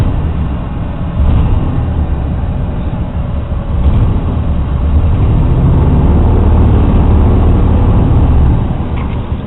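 A car engine idles with the AC compressor engaged, a steady low rumble whose level steps up and down as the compressor load shifts, close and continuous with no talk.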